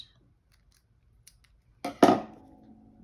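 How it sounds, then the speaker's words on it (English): Scissors snip through sewing thread during whipstitch shibori work, a quiet tick or two, then one crisp, close cut that rings briefly and fades. "I'm just going to cut this off"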